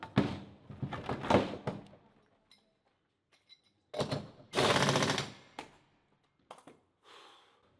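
A McLaren Formula 1 pit stop practice run makes rapid mechanical bursts like wheel-gun rattles and clunks in quick clusters, with a quiet gap between them and a last softer burst.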